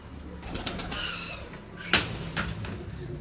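Breeder's pigeons coo softly at close range in a loft, low burbling calls repeating over faint background rustle, with one sharp knock partway through.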